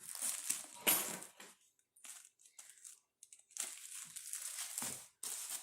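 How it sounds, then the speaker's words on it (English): Bread being cut by hand for baked French toast, crisp crunching and crackling strokes in irregular bursts separated by short quiet pauses, close and fairly quiet. "to cut my bread."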